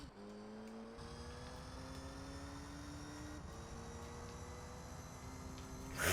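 Race car engine in the Gran Turismo 3 video game held at full throttle during an S6 gold license test, a steady loud high drone with rising pitch as it accelerates, continuous and alone without speech.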